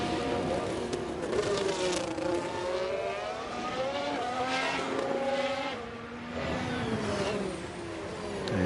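F1 race cars on a flying lap in the F1 Manager 23 racing game, engines whining in rising and falling pitch sweeps through gear changes, one car closely trailing another, steady and moderately loud throughout.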